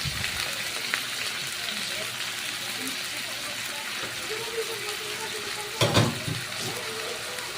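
Squid going into a pan of sautéing garlic and onion, a continuous broad sizzle with a louder splashy burst partway through and a voice talking over it.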